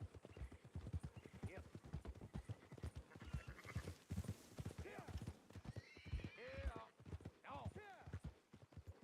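Horses in Red Dead Redemption 2 clop in a rapid, continuous hoof rhythm with several whinnies and neighs breaking through, close and busy, while a voice talks intermittently over them.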